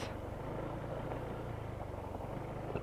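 A car passing on a rough, unpaved muddy road, a low continuous rumble of engine and tyres that stays steady and fairly faint throughout, with no voices.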